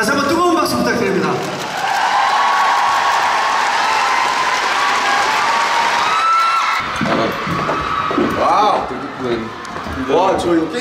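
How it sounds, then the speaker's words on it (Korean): An audience at a Korean popular culture and arts awards ceremony applauds loudly and steadily, with cheering and shouts mixed in; the clapping thins out toward the end as a voice speaks over it. "여러분 다시 한번 뜨거운 박수 부탁드립니다."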